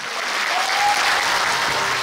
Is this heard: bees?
no